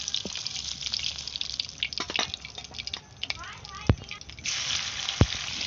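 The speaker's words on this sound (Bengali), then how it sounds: "পনিরগুলো আমি হালকা করে ভেজে নেব।" Paneer pieces frying lightly in white oil with a little butter for palak paneer, giving a soft steady sizzle with scattered pops and drips, fairly close and without talk.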